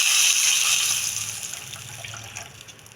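Water is poured into a pan of besan vadi curry while it cooks, a splashing gush that is strongest at first and then tapers off over a few seconds.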